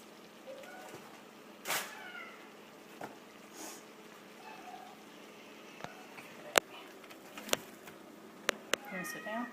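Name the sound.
cat meowing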